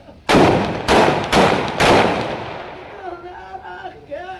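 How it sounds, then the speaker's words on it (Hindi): Ceremonial rifle volley at a police constable's funeral: four loud, sharp shots fired one after another about half a second apart, each with a long echoing tail, followed by fainter clatter and voices. "दाहिने से बारी बारी एक राउंड फायर"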